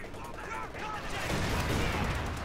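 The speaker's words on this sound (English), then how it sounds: "Now the white phospho though!" Mortar halftrack of the US Forces faction in a strategy video game firing white phosphorus rounds, heard as dense overlapping booms and crackling battle noise that stays loud and steady throughout, with a voice talking faintly underneath.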